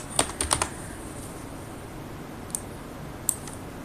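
Computer mouse clicks during a spreadsheet task, a quick cluster of sharp close clicks near the start followed by two isolated clicks later, over a quiet room hiss with no talking.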